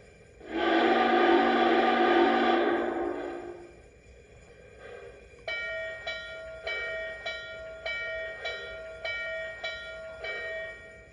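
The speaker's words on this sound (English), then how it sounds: "the locomotive features an accurate whistle and bell" A model Norfolk & Western 611 steam locomotive's loud, sustained whistle blows for about three seconds, followed by a bell ringing steadily around nine times.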